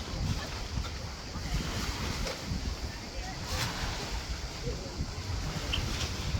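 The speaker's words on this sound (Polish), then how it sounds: "Teraz duże fale i pływa się tak średnio." Big sea waves roll onto a Croatian beach with a constant, loud rushing surf and wind buffeting the microphone, no distinct breaks, alone without talk.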